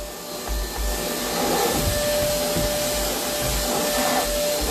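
A Eureka Easy Clean vacuum cleaner runs steadily with a constant motor whine and hum, loud and close, with no talking over it.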